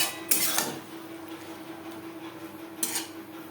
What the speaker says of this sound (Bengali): মশলার সাথে চিচিঙ্গা বেশ ভালো করে মিক্সড করে দেবো